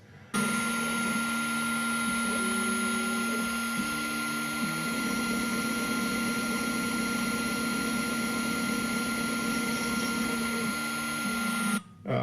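CNC mill boring holes in exotic wood for knife handles with a 1/8 inch bit, a steady high whine of the spindle with shifting stepper-motor tones as the cutter moves between paths.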